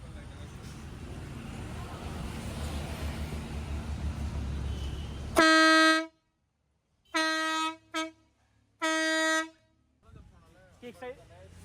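A newly installed train-style air horn on a motorbike blasts three or four loud, sustained tonal honks of varying length, close by. It follows engine and road rumble, and brief talk comes afterward.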